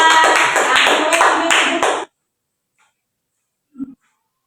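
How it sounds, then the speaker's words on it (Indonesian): A classroom claps for a student after a micro-teaching lesson, a brisk burst of many hands lasting about two seconds before cutting off into near silence, with one small knock just after. "tepuk tangan buat Lydia"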